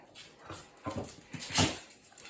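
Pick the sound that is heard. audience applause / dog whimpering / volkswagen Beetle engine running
dog whimpering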